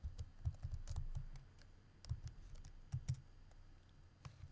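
Computer keyboard typing on a Linux desktop, irregular bursts of soft key clicks and thumps in quick clusters, close but quiet, with no talking.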